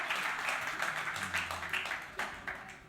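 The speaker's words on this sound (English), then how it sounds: "Can we have a please big round of applause?" Audience applause at a fireside session of a conference, a fairly quiet, short burst of scattered hand clapping that fades toward the end, with a faint voice in the background.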